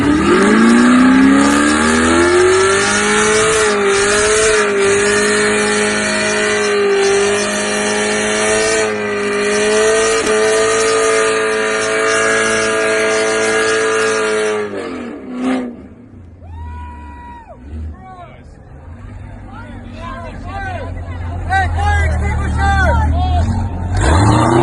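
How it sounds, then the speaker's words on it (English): A car doing a burnout, its engine held at high revs in a sustained loud whine with tire noise, then dropping away around fifteen seconds before revving and squealing again amid crowd chatter. "I have seen so many Instagram videos of people doing these insane burnouts"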